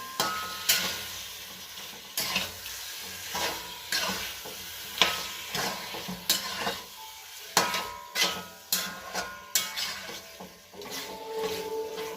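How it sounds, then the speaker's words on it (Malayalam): Chicken roast sizzling in a pan while being stirred, with repeated scraping and clinking strokes of a spoon against the pan over a steady frying hiss, close and fairly loud. "വീണ്ടും ഇളക്കി കൊടുക്കുക."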